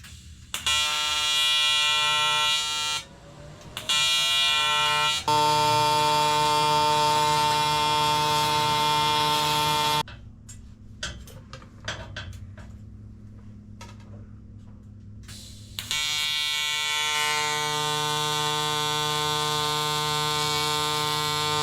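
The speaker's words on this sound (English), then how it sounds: "do a bit of weld here just to get it held good and solid" Electric welding on metal plates of a marine cooling system heat exchanger, a loud steady buzzing hum broken by short gaps and crackling bursts, with no voices.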